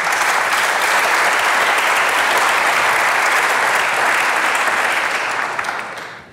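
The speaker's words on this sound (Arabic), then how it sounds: "تصفيق على خليفة" Studio audience on a Tunisian television show breaks into loud, sustained applause that holds steady for about five seconds before tapering off, with no voices over it.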